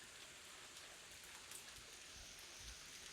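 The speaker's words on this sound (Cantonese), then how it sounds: "好大個落雨聲" Steady heavy rain pours down, a dense continuous hiss with occasional louder drops and splashes, no voices.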